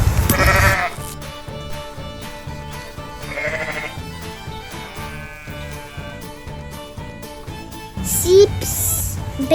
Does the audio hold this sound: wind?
no